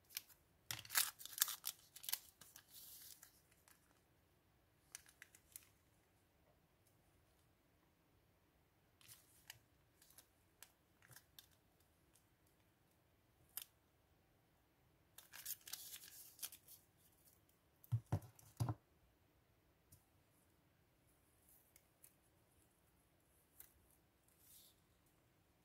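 Scissors snipping paper for a bullet journal, sparse quiet cuts and rustles in short bursts with long pauses between, close and faint in a quiet room.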